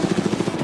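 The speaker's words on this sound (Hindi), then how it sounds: "ये हेलीकॉप्टर हमारे बॉयज को ऊपर हवा में ले जाएगा" Helicopter flying over the sea near a private island, its rotor beating in a steady, rapid thump, loud and close and filling the short moment with no voices.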